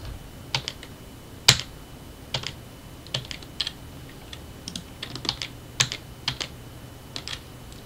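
Computer keyboard typing during a texture tutorial, close and crisp: scattered individual key clicks and short clusters of taps with gaps between them, one sharp louder press early on, alone without talking.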